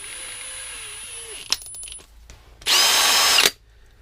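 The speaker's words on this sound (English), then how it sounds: "I'm going to use my handheld cordless drill, and I'm going to throw these bolts in here" A handheld cordless drill whirs briefly, then after a short metallic clatter of bolts, spins up again in a loud, steady burst for under a second before stopping.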